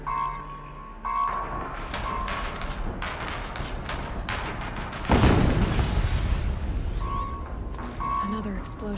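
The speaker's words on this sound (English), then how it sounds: "Another explosion." Explosions in Horizon Zero Dawn gameplay: a sudden loud boom bursts in around the midpoint and rumbles on, amid continuous game sound effects and music throughout.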